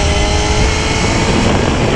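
Loud, close exhaust note of a Honda CBR250RR sport motorcycle, a dense, steady high-revving drone held throughout with a gritty rasp and no talking over it.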